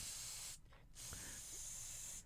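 A spray can hisses in a steady broad burst, breaking off briefly before resuming for a longer continuous spray, fairly close and alone.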